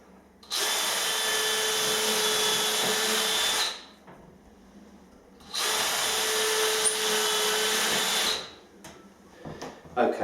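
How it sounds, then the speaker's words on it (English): A power drill whirs loudly in two sustained bursts of about three seconds each while drilling holes in ceiling boarding, separated by a short pause, with faint clatter afterward. "So I'm going to drill a couple of holes and then just screw this bit on."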